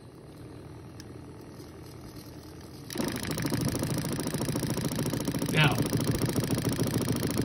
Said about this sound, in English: And I'll turn the pump on to show you this.